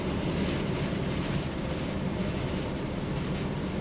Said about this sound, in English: There's plenty of power in this engine,